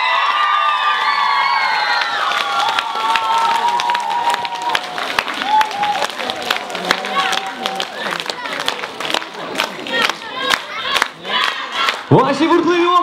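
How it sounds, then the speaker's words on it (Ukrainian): A crowd at a children's mini-miss pageant in Vynohradiv erupts in applause, cheers and shouts after a winner is announced, with music and voices layered over the clapping throughout. "Ваші бурхливі оплески, Яна Філіп!"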